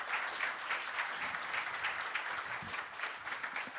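An audience claps steadily for a few seconds, a soft, even patter of applause without cheering.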